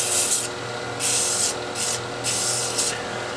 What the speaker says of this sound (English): I don't want to sand too much this intersection here